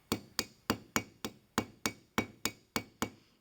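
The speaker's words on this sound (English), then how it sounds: "Then use your ball peen to gently mushroom the ends of the pin over." A ball peen hammer strikes the ends of a brass hinge pin eleven times in a steady rhythm, each blow a sharp, close metallic tap with a quick decay and no talk.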